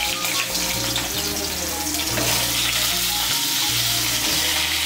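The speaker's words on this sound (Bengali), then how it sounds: "কড়াইতে যে তেল আছে এই তেলে পটলগুলো ভেজে নেব।" Peeled, cut pointed gourd pieces frying in hot oil in a wok, a loud continuous sizzle with stirring, steady throughout and no talk.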